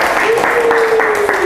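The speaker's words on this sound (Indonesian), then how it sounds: "sebelum itu tepuk tangan untuk kita semua" Brief classroom applause from students during a teaching session, a short burst of clapping mixed with a voice talking over it.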